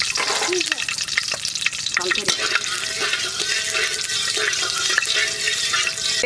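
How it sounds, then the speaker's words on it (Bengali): Dried chili and greens, apparently Centella asiatica, fry in hot oil in a village kitchen: a steady close sizzle runs throughout, broken by scraping and clattering strokes of stirring. "শুকনো মরিচ দিয়া তেলে ভাজি করে তারপর শাক রান্না করে"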